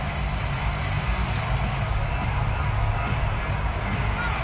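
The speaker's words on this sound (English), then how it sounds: "this crowd loves it as their guys hold on the opening drive" Steady crowd roar and cheering from a stadium in an American football video game, a Titans versus Chargers matchup, sustained and broad throughout with no distinct peaks.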